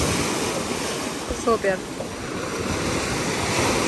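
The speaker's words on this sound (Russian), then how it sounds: "Волны." Sea waves wash onto a hot Israeli beach in a steady, broad roar of surf and wind noise, with a brief spoken word from someone nearby partway through.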